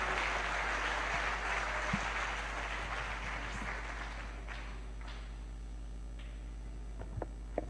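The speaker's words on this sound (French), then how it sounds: "That hand clap is for Jesus." A church congregation applauding during a bilingual French and English worship service, a dense wash of clapping that fades gradually, with a few distinct claps near the end over a low steady hum.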